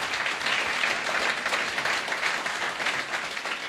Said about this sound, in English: Can you guys give them a round of applause?